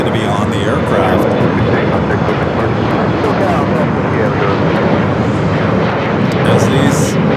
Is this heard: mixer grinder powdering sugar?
no